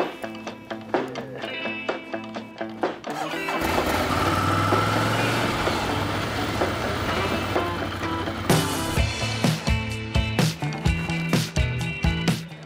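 A motorcycle engine starts and runs, first a burst of ticking and clanking, then a steady rumbling idle for several seconds, then rhythmic revving pulses and clatter, close and loud with no talking.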